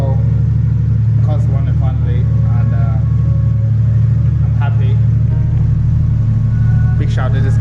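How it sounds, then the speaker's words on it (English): A Toyota JZX100 idles on a standalone ECU with a steady, loud low rumble. The engine drones continuously up close while people talk over it. "My car's finally running on the ECU master"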